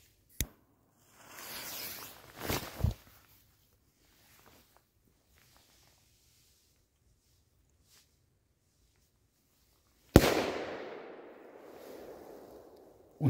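Fireworks and firecrackers go off during Romanian National Day celebrations: a sharp crack, a crackling burn of sparks, then a long silent gap before a loud bang rings out and fades, ending with another pop.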